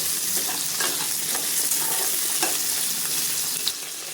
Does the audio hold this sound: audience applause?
no